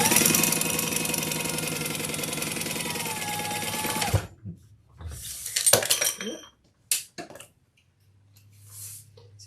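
Leather handbag sewing session: a sewing machine runs steadily for several seconds, then stops, followed by scattered clattering of metal tools being picked up and set down on a work surface.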